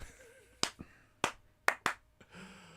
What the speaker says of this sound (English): Slow clap worthy.